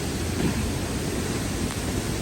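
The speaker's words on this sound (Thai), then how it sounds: "หรือว่าน้ำตกห้วยหลวงนะครับ" Huai Luang waterfall in Na Chaluai, Ubon Ratchathani, pours with a dense, steady roar of rushing water up close, a constant wash of noise with no voices.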